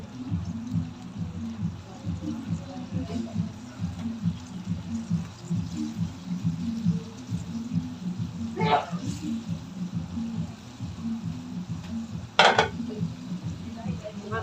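A large golden fish, about 3.5 kg, goes into a hot pan and begins frying with a soft sizzle. A steady low pulsing hum runs underneath, with two brief metallic clatters of utensils on the pan.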